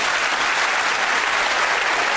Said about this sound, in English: give Paul and Edwina a round of applause